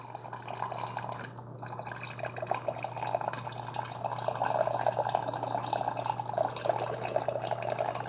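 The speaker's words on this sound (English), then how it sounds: "hit the start button. Okay, so this starts brewing right away." A Cuisinart SS-GB1 Grind & Brew Plus coffee maker brewing a single cup through a reusable K-cup gives a steady liquid trickle and drip over a low machine hum, continuous and fairly close.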